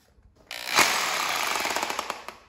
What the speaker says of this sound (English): I'm using the hammer setting on the drill where the bit doesn't spin